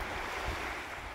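Sea waves at Jomalig Island, a continuous loud wash of surf mixed with heavy wind buffeting the microphone, with no voices.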